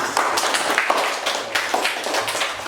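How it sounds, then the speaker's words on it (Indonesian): A classroom group claps together in a dense, steady burst of applause lasting a few seconds. "Tepuk tangan untuk kita semua."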